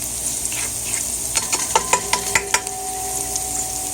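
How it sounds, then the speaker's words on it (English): Garlic sweats in oil in a pan with a steady sizzle, and a quick series of metallic taps and scrapes from a utensil on the pan rings out in the middle. "So I'm going to sweat my garlic until it starts flavor the place."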